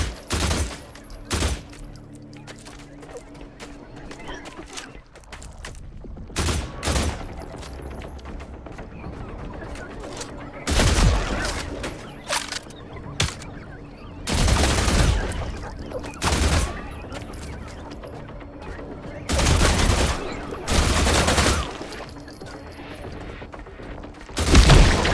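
Bursts of gunfire in The Last Caretaker video game, loud clustered volleys repeating every few seconds over a steady mechanical background hum, with no talking.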